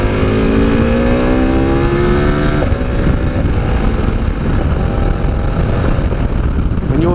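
A 2017 KTM 1290 Super Adventure S motorcycle accelerates hard while overtaking, its engine note rising through the revs with a gear change partway. Loud wind rush runs beneath the engine the whole time.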